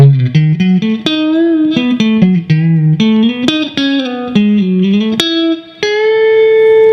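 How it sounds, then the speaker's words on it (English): An electric guitar plays a clean, sustained melodic lick in a blues-rock style, a run of distinct picked notes with bends, ending on a long held note, played alone without talk. "so the entire lick would sound like this"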